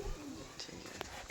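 Pigeons coo softly and briefly at a distance, with a few faint chirps over quiet background noise.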